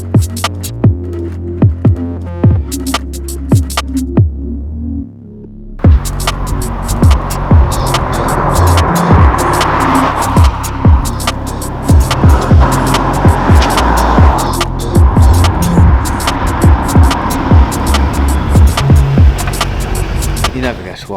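A Celica GT-Four is driven around with a loud continuous engine drone and road rumble, broken by repeated sharp clicks and knocks, with voices talking over it throughout.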